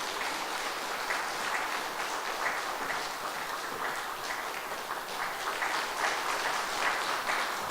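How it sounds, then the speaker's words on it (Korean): A church congregation at a spring revival service claps continuously and evenly to welcome a speaker, a dense, moderately distant patter of many hands that holds steady throughout. "우리 나오실 때 박수로 환영하겠습니다."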